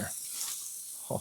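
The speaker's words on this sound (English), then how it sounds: "look at that beautiful sear there" Meat searing over an open outdoor fire in winter gives a steady, close hiss of sizzling that runs alone through the moment, with a brief knock near the end.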